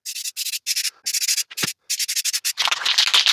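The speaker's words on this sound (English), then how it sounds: "We'll just touch up the spots I sanded here." A guitar body is sanded by hand in short, rhythmic back-and-forth strokes, giving close, scratchy rubbing bursts separated by brief gaps, ending in a slightly longer, denser stretch of sanding.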